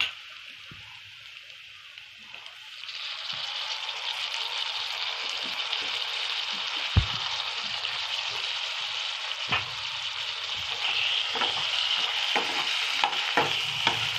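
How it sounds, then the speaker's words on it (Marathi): Tomatoes dropped into hot oil over fast heat after the onion, the pan bursting into a loud sustained sizzle after a quieter start, with scattered sharp stirring clicks against the pan. "टोमॅटो पण थोडं भाजून घ्यायचं तेलामध्ये"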